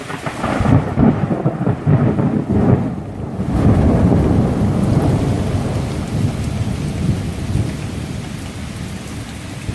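Heavy rain pours during a multi-day storm at a homestead, a loud steady wash with deep thunder rolling and rumbling through it, plus some wind buffeting on the microphone.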